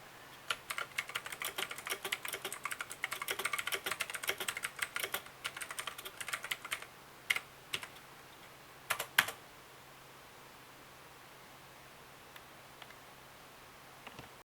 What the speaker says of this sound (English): here's the typing test and also the sound the keys make together